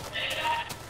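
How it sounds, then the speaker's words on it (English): A sheep in the Minecraft video game lets out a single short, nasal bleat, close and clear, lasting under a second. "Sheep, cow, more sheep."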